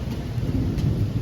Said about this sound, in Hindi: बादल देख रहे हो कितने गरज रहे हैं